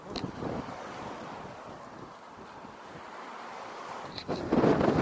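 A strong headwind roars across the microphone of a cyclist riding a long-distance brevet, giving a continuous rushing buffet with a heavier gust at the end and no speech.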